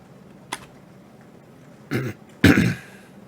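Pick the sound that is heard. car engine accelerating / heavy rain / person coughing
person coughing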